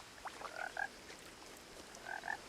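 Two short pairs of croaks from a frog in the game What Remains of Edith Finch, quiet and fairly close, separated by a pause with no talking.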